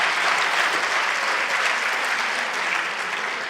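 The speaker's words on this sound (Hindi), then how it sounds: "आप ताली बजाइए, आप लोग बहुत अलग है, ताली बजाइए।" Sustained audience applause at a Hindi motivational talk, a dense, steady wash of clapping that fills the whole stretch, loud and close with no voices over it.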